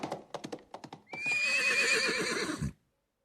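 A horse whinnies as an audiobook sound effect, preceded by a quick run of clip-clopping hooves, then one long loud neigh with a wavering pitch that stops abruptly before a brief silence.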